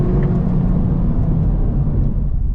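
A 2026 Honda Civic Type R pulls at full throttle, its engine a loud, continuous low roar from inside the cabin with no voices.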